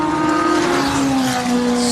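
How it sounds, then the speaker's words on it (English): A Lotus race car fitted with a Ferrari 488 engine runs the Simola hill climb, its loud, close engine holding a sustained high-pitched roar with a slight shift in pitch as it pulls hard up the course. "Here goes Darby Hubert in the Lotus with the Ferrari 488 engine"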